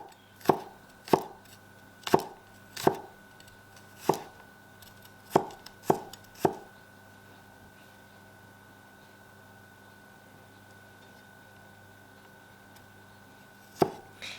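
Knife chopping garlic into slivers on a cutting board for Northeastern Chinese sweet and sour pork: eight sharp, evenly spaced chops in the first half, a long quiet gap, then one last chop, close and clear with no talking.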